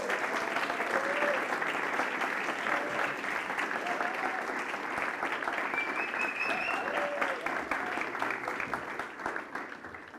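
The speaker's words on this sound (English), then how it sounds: "Please give an applause to Rokas." Audience applause at a TEDx event, a dense, steady clatter of many hands held at an even level for about ten seconds before thinning slightly toward the end, with a few faint voices rising above it.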